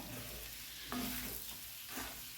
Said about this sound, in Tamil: இது ஆயிலில் ஒரு ரெண்டு நிமிஷம் நல்லா ஃப்ரை ஆகணும்